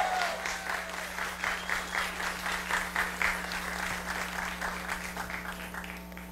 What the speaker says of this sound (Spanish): Primero, los aplausos, por favor, para los sinfónicos maravillosos.